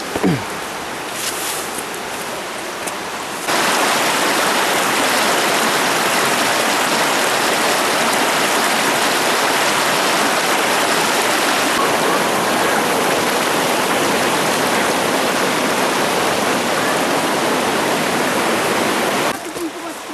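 Rushing river water flows near the Aek Godang waterfall, a loud, dense, continuous roar that fills the whole stretch; it is a little quieter in the opening seconds and swells to a steady wash.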